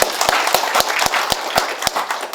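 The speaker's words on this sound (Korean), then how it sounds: "우리 김홍걸 의원님께도 격려의 박수 부탁드립니다" An indoor audience at a youth symposium breaks into sustained applause, a dense wash of clapping with a strong, regular beat running through it.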